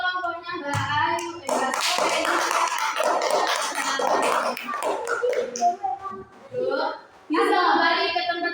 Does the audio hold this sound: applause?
yes